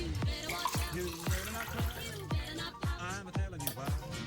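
Liquid is poured over ice into a glass for an apple pie holiday cocktail, a close splashing trickle under a steady rhythmic musical beat.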